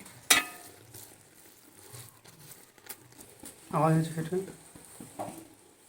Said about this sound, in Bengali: সমস্ত উপকরণগুলো দিয়ে আমি এইভাবে হালকা হাতে একদম নাড়তে হবে।